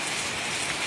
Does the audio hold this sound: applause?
no